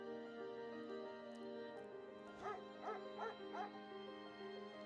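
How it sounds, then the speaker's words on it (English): A dog in a played clip gives a run of four quick barks and yips, moderately faint, over a steady tonal background hum and music-like drone. "Dog."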